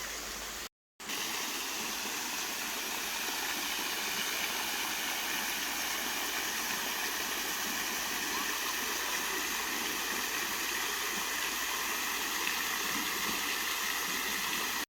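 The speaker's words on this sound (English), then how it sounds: "It's not a lot of water falling down here." A small waterfall weakened by drought trickles onto a riverbed, a steady, even hiss and gurgle of running water that continues without pause after a brief dropout at the start.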